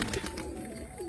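A single newly caught pigeon coos low and steady at close range, with a soft rising note near the end and no voices.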